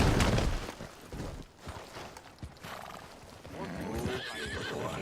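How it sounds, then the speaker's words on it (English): Horse collision in Red Dead Redemption 2: a crash with loud clattering hooves and a whinnying neigh, followed by quieter game noise, with a voice speaking over it. "No, choque de caballo, sí."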